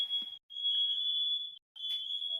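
A fire alarm sounds in long, piercing high-pitched beeps, two of them separated by short gaps, loud and close, with faint background noise and no clear talk.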